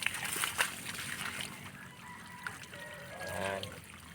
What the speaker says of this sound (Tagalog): Mahinala yung tubig natin guys.